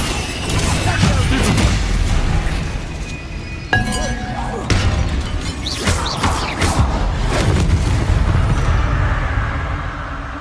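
A Bombarda explosion spell cast in Hogwarts Legacy goes off as a loud booming blast with shattering, crashing debris. Further crashes and rumbles follow over about ten seconds of busy game sound.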